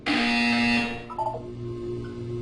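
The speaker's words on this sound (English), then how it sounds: "You will hear a buzzer." Portal 2 video game buzzer: one loud, harsh electronic buzz lasting about a second, stopping abruptly and leaving quieter tonal room ambience behind.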